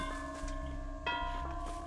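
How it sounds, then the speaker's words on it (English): The Wraith's bell tolling in the video game Dead by Daylight: steady, sustained metallic ringing tones with a fresh strike about halfway through, heard alone at moderate loudness. "he's like just ringing the bell"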